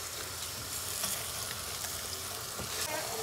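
Onion and meat fry with tomato paste for tas kebab, a dense, even sizzle that stays at moderate loudness throughout with faint stirring underneath.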